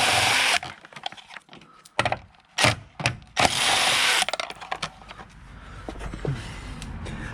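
Tool working on radiator support bolts of a 2010 car, with bursts of ratcheting and loud mechanical whirring alternating with clicks and handling noise, close by with no speech.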